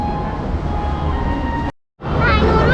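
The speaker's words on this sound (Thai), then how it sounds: "รถรางมาแล้วครับ ทางด้านหลัง" Hong Kong tram approaching on a cold day, a loud steady rumble of rail traffic and street noise that cuts out abruptly for a moment, then returns louder and closer.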